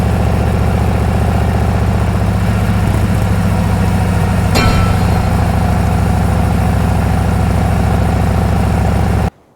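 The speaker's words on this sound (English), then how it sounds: "how good this engine is, the Milwaukee 8 engine. It's a beast" A Harley-Davidson Road King Special's Milwaukee 8 114 engine idles with a loud, steady, lumpy rumble, broken once midway by a brief sharp click, with no talking.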